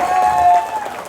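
Brief burst of audience applause at a Balinese drama gong stage performance, a steady crowd of clapping hands, loud and sustained, with a sustained whistle-like tone over it.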